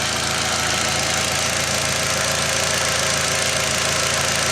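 A 1.8T Mk4 Jetta engine idles steadily after new ignition coil packs, a continuous even mid-range hum with a faint knocking texture, close and constant with no talk.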